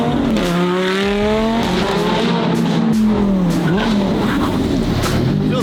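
A Lamborghini engine revs hard and climbs through quick upshifts, loud and close, with its rising tone dropping sharply at each shift and a raspy, continuous roar throughout.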